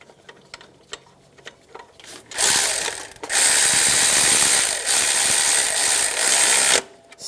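A ratchet wrench snugs down drive belt tensioner bolts on a 1999-2006 Chevrolet Silverado 1500, first a few scattered light clicks, then a loud, close, continuous burst of rapid ratcheting lasting several seconds before it stops abruptly.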